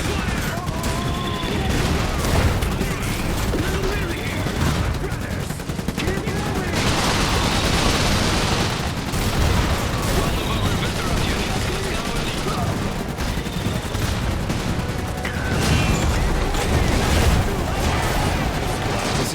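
Suppressive gunfire in the game Iron Harvest: a dense, continuous roar of machine-gun and rifle fire with booming impacts runs throughout, loud and unbroken, with shouted voices mixed in beneath.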